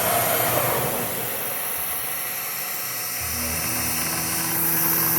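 ShopSabre CNC router cutting plastic, a loud high-pitched spindle whine with broadband cutting noise, steady and continuous, with a lower motor tone rising in the second half.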